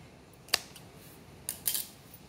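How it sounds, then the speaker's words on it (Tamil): Scissors snip through plastic running wire while making a chocolate knot basket, one sharp close cut followed a second later by two quick snips, alone in a quiet room. "இப்போது ரன்னிங் வயரை கட் பண்ணி விட்டுடலாம்."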